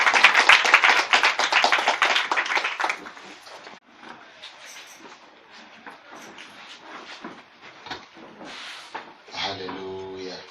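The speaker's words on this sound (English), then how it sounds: "Clap mightily for Jesus." A church congregation claps at a worship service, with loud, dense, rhythmic clapping for about three seconds. It then thins to quieter, scattered sounds with voices in the background.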